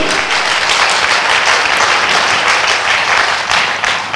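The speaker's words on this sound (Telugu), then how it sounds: "గట్టిగా చప్పట్లు కొడతాం పిరమిడ్ మెడిటేషన్ ఛానల్కి" A crowd at a meditation rally in Srikakulam claps loudly, a dense, even roar of applause sustained throughout with no pauses.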